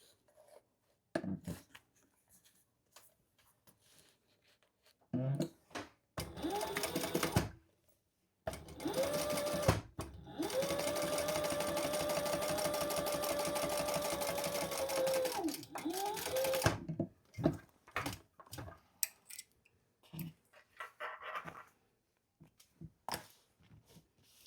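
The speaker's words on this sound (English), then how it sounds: "Let me top stitch." A sewing machine top-stitches around a zip-around travel wallet in a steady buzzing run of about eight seconds. Shorter stitching bursts and clicks of fabric handling come before and after, close by.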